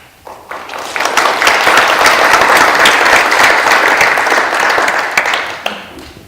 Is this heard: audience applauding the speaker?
yes